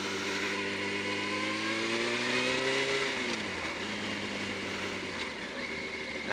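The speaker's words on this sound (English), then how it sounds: "The calmest sound of a vibrating exhaust on my ass cheeks." Motorcycle engine with a vibrating exhaust while riding on a bumpy road, a steady close droning rumble whose revs climb then drop as it shifts, loud and continuous.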